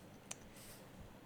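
A single sharp click from a computer keyboard spacebar, close and brief, with faint room noise around it and no talking.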